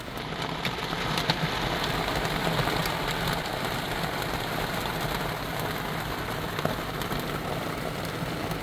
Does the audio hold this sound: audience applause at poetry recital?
no